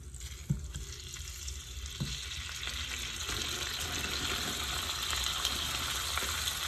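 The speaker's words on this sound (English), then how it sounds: "I'm going to add my garlic. I have frozen onions." Garlic and frozen onions sizzle in a pan, a steady crackling hiss that builds slightly over time, with a few soft knocks, heard alone at moderate volume.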